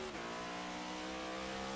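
Race car in an Old Glory Racing League Genesis Cup Series event downshifting, a steady loud engine drone with a brief shift dip near the start, running alone without talk.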